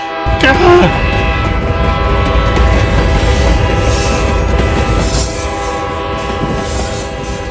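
A train rolls past on railroad tracks near the Greer train station, loud and close, with a sharp horn blast at the start and a steady rumbling roar of wheels throughout.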